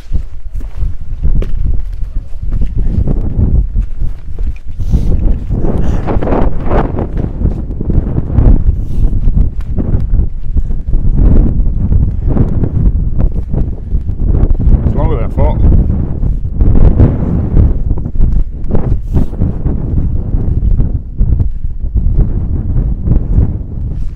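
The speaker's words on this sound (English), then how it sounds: "It might get a bit windy" Strong wind buffets the microphone outdoors in open wilderness, a constant loud roar and rumble with gusting surges throughout.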